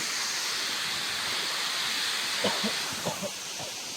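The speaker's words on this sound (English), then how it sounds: "as you can most likely hear, we made it back to the waterfall" Steady broadband rush of a waterfall in the Welsh mountains, a constant hiss-like roar of falling water, with a few brief low knocks or footfalls near the end.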